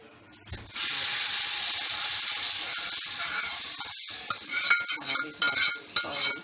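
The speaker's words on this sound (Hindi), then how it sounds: "हम इसको मिक्स कर दें, अच्छी तरह मिक्स कर लें ताकि ऑयल इसके अंदर चला जाए" Whole masoor lentils stirred with hot tempering oil in a cooking pot, a steady loud sizzling hiss that softens and breaks into scraping and light clinks of the spoon against the pot near the end.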